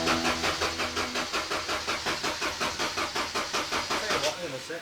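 A Cosworth car engine that has stood unused cranks and fires, giving a loud, rapid, regular pulsing chug close by that settles into a steady running rhythm.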